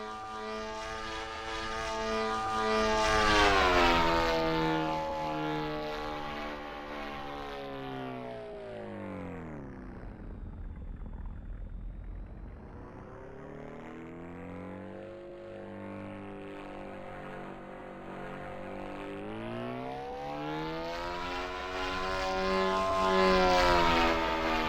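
A simulated RC jet in the Aerofly RC flight simulator game makes low passes, its engine whine swelling and falling in pitch as it sweeps by twice, with a quieter stretch between passes.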